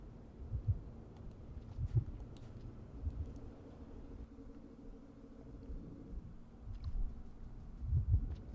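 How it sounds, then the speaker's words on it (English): A heartbeat in the video game Rain World beats as slow, deep, muffled thumps, some in pairs, spaced a second or more apart over a low droning rumble. "The heartbeat's louder, isn't it?"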